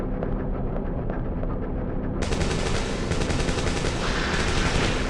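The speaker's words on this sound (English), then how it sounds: "Regina heard there was a gunshot outside of the room." Gunfire in the PS1 video game Dino Crisis: loud, dense, rapid shots in a continuous barrage that grows brighter and harsher partway through.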